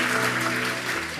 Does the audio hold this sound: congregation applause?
yes